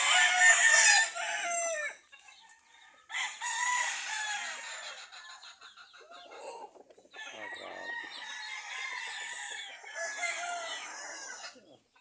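Chickens cluck and a rooster crows loudly nearby, in repeated bursts with short pauses between them.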